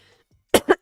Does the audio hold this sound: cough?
yes